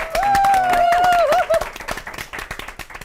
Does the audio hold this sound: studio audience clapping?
yes